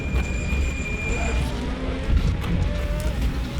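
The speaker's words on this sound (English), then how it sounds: "I think this Corvette just sounds absolutely amazing" A Group 5 classic Corvette race car in the RaceRoom racing game drones steadily at high revs, loud and continuous, with the pitch shifting slightly through gear changes.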